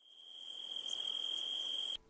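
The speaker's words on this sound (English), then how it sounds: "The answer, crickets." Steady crickets chirping in a continuous shrill trill, fairly loud and alone with no talk, holding evenly for about two seconds before cutting off abruptly.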